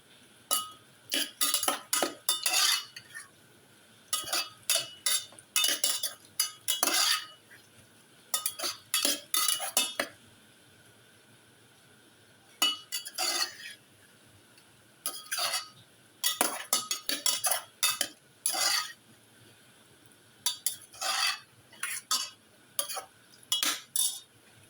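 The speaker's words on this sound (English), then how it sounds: "Mix thoroughly." Shrimp that have been cleaned are mixed thoroughly in a bowl, with clustered bursts of bright metallic clinks and scraping from a spoon against the dish, broken by short pauses, close and fairly clear.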